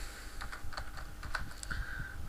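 Quick, light clicking of keys being typed on a computer keyboard, an irregular run of close taps at low level with no talking.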